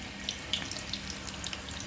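Mutton kola balls frying in oil on a stove at medium flame, a steady soft sizzle with scattered crackling pops, close and continuous with no talking.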